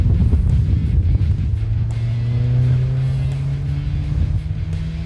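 Engine of a 1954 Morgan Plus 4 coupe heard from inside the cabin, a loud steady drone with rising tones as it accelerates through the gears, continuous throughout with no talking.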